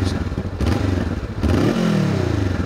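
A Honda CBR500R motorcycle engine rumbles up close, then drops in pitch as the throttle closes, with quick exhaust pops and crackles on deceleration.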